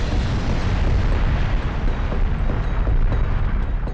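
A deep, continuous rumbling roar of the Taal Volcano erupting and spewing ash, loud and unbroken, with dense low booming texture throughout.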